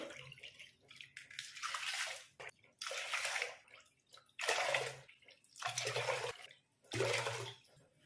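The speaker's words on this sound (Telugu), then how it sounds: "ఇలా కడిగి పెట్టుకున్నటువంటి ఈ పప్పులో ఇప్పుడు వాటర్ పోసుకోవాలి." Water pours into washed lentils in several separate bursts, each a loud rushing splash lasting a second or two, with short quiet gaps between.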